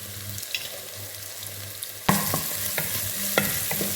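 Spices and ingredients sautéing in a pan, a steady close sizzle that jumps louder midway as more go into the hot oil, with scraping stirs clattering over the frying.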